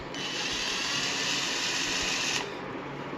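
A Bosch GSB 500 RE drill whirs steadily at full speed for over two seconds, then spins down, close to the microphone.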